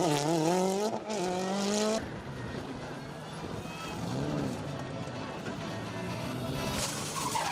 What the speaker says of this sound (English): The pair bringing out the Fiesta WRC this weekend. A rare sight and sound on the stages these days